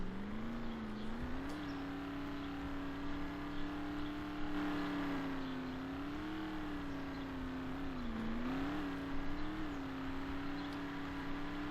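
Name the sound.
Toyota Prius GT accelerating in Roblox Ultimate Driving video game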